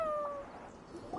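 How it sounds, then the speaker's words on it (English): A cat in Genshin Impact lets out a short, clear meow near the end, close and fairly quiet over soft in-game ambience and music tones. "Oh, we got a little meowing."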